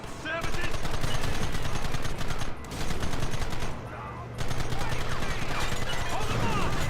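Rapid gunfire from a wagon shootout in Red Dead Redemption, with dense, continuous bursts of overlapping shots that stay loud almost throughout and drop out briefly twice, with game voices mixed in.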